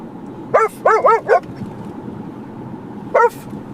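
Dogs riding in a Subaru car bark in an AI-generated Veo 3 scene, a quick cluster of four sharp, close barks followed by a pause and one more bark over a low background rumble.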